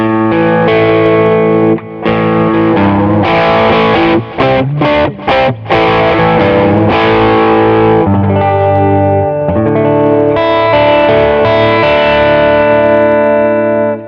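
Electric guitar chords through a Klon clone overdrive on a Positive Grid Spark practice amp, loud and sustained with a gritty mid-heavy, nasal tone, strummed in a few ringing strokes.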